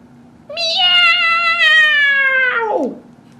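A voice imitates a cat with one long, loud, drawn-out meow lasting about two seconds, ending in a falling slide, alone against near silence.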